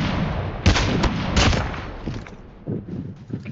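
NA-45 gunfire in Call of Duty Mobile, a few loud, sharp shots early on, then scattered quieter reports and battle noise trailing off.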